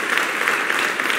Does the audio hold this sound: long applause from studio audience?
yes